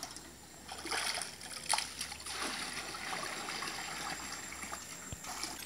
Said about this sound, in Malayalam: വെള്ളം ഒഴിച്ചുകൊണ്ടിരിക്കുകയാണ്.